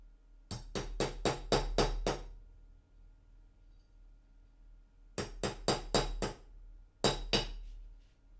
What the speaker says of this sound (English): so now I can just hammer real hard